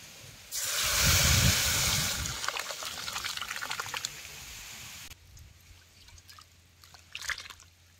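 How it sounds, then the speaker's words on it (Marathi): Dal pours steadily into a spiced drumstick curry cooking over a wood-fired stove, a loud liquid rush lasting several seconds before easing into quieter trickles and drips. "आता ही डाळ ह्यात वतायची."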